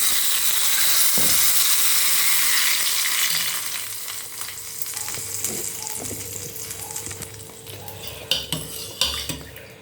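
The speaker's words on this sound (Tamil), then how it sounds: "கடுகு, கருவேப்பிலையை இந்த மாதிரி வறுத்து" Mustard seeds and curry leaves fry for a tempering, opening with a loud hissing burst that settles into a softer sizzle, then sharp metallic clinks and scrapes of a spoon against the pan, with no speech.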